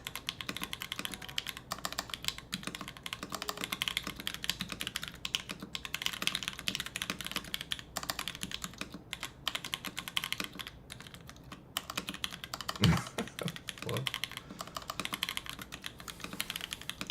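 Fast, steady computer keyboard typing during a TypeRacer race, a dense stream of light close clicks that runs for the whole stretch with a brief louder knock near the end, with no voices.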